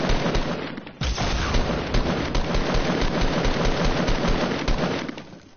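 Sustained automatic gunfire in a video game, dense rapid bursts and cracks filling the whole stretch at close range with no talking over it.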